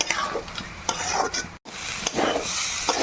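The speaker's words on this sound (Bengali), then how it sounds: "এবারে মিশিয়ে নেওয়ার পর প্রায় 2 মিনিট এখানে ভেজে নেব।" Ginger paste, ghee and chillies for khichuri sizzle in a pan while a spoon stirs with repeated scraping strokes, the frying hiss continuous and close apart from a very brief break.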